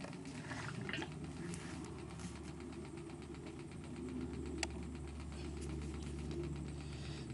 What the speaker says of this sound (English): We've got our water flowing through the still